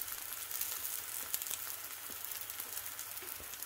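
Turkey rashers fry in a pan with a steady, close hiss of sizzling fat and scattered small pops throughout.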